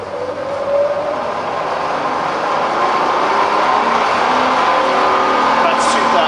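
A rebuilt Bridgeport milling machine runs its spindle in reverse at speed and is then braked, giving a steady, loud mechanical whine with a broad rushing hum that holds throughout.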